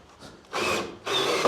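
A power drill drives a screw into wood during a truck tiny-home rear wall build, two short close bursts of whirring and grinding separated by a brief pause.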